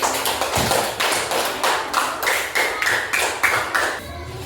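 A classroom claps for a student group in a lesson on good character, with regular rhythmic group claps in a steady beat about four times per second, fairly close and loud, with a brief voice at the end.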